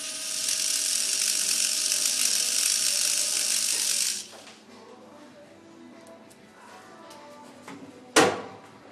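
A picooZ Sidewinder micro helicopter with a slipping cog gives a steady high whirring and grinding of its gears for about four seconds, then drops to quiet faint handling noises and a sharp click near the end.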